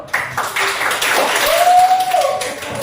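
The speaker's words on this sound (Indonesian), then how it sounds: "Tepuk tangan dulu." Students in a chemistry lesson clap briefly in a classroom, a short patter of hand claps mixed with a thin whistle-like tone and faint voices.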